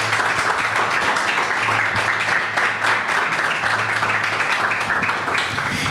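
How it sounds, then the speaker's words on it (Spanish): Steady applause from a studio audience on a sports club's television interview show, dense continuous clapping at close range that lasts the whole stretch without talk. "Podemos darle ya el aplauso al señor Claudio Murresi."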